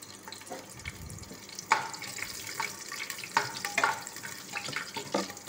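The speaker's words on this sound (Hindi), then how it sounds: "मैंने 3 से 4 मैंने लहसुन की कली ली है, और अच्छे से उसे मिक्स करेंगे और हल्के से उसे ब्राउन होने तक भून लेंगे" Three or four garlic cloves fry in a pan, giving a quiet, steady sizzle broken by scattered clicks and scrapes as they are stirred.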